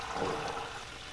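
Butter bubbling and sputtering in a pan as it is clarified, a steady, fairly loud seething hiss with fine crackle throughout and no talking.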